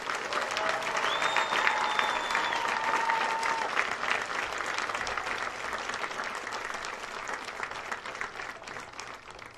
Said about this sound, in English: Let's have a round of applause for our second row of graduates.